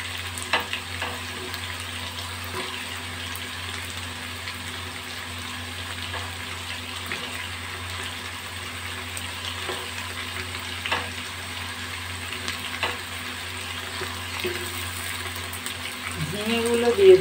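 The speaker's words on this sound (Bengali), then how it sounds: "আলু কুমড়ো 2 মিনিট ভাজা হবে।" Chunks of potato and pumpkin, with brinjal to follow, fry in oil in a pan for a vegetable curry, giving a continuous soft sizzle with occasional light crackles and stirring near the end.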